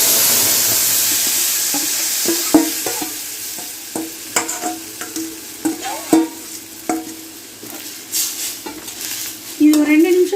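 Ground coriander paste being stirred into a frying pan, with a steady sizzle under repeated scraping and clinking of a spoon against the pan, some sharper knocks spaced irregularly.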